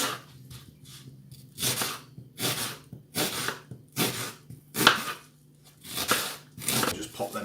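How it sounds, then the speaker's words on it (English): A kitchen knife chopping a medium onion on a board, in a series of rough, crunchy cutting bursts at an uneven rhythm, close and moderately loud. "And we'll start off by chopping a medium onion."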